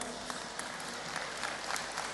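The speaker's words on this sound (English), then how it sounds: "A round of applause for Ben." An audience in a room applauds a student called up at a seminar, with steady dense clapping from many hands that carries through the whole stretch at an even level.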